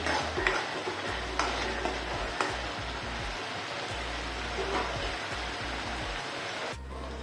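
Masala being sautéed in a pan for rajma tadka, a steady soft sizzle with scraping and stirring ticks throughout, close and fairly quiet, with no talk.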